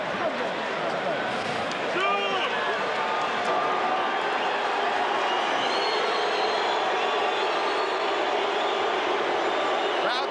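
Boxing arena crowd after a Shane Mosley versus Vernon Forrest fight, a dense, steady roar of many voices with a commentator talking over it throughout.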